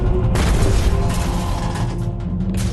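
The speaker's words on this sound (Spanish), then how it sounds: "Una carga de profundidad explota casi al mismo tiempo." A World War II depth charge explodes underwater, heard as a loud, heavy, sustained rumbling roar that fills the whole stretch without letting up.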